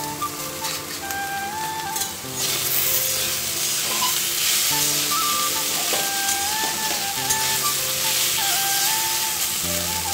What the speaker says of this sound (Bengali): একদিকে পেঁয়াজ ভাজছি আর একদিকে সোয়াবিন ভাজছি